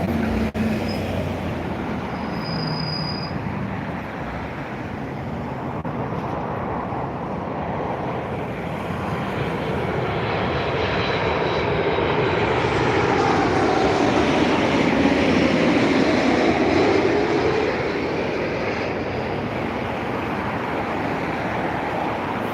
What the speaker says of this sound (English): That was Ryanair Boeing 737-800, Max 8 from Porto EIILN, arriving in 25 minutes early from Porto.